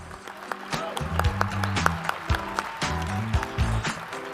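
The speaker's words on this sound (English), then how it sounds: "please join me in giving one more big round of applause for all of our awardees tonight" Audience applause for awardees at a small business gala, fairly quiet clapping beneath prominent music with a steady beat.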